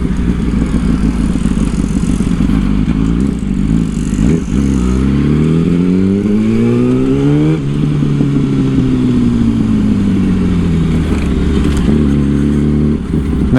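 A 2008 Yamaha R1 being ridden, the loud inline-four engine close and steady, climbing through revs in repeated rising sweeps with gear shifts and brief throttle dips, no talking over it.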